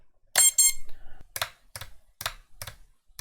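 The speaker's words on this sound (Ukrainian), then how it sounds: "По центру в мене пищалка, вона зараз запрацює." A piezo buzzer on an FPV drone being set up with its radio controller, propellers off, sounds up close: a sharp double beep, then four short, evenly spaced chirps.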